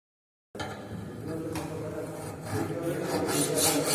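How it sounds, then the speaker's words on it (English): A rough hand file rasps steadily across a metal workpiece in a fitting shop, with continuous close scraping strokes that grow slightly louder toward the end, no voices. "first we use rough file, okay, to remove excess material"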